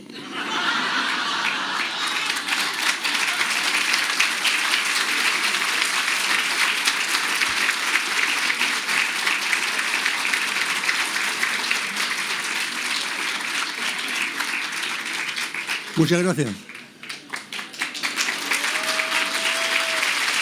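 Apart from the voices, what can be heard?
audience applauding, standing ovation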